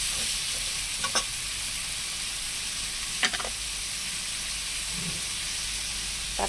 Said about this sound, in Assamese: পিঁয়াজখিনি ভাজি হোৱাৰ পিছত মই ৰঙালাওখিনি দিছোঁ।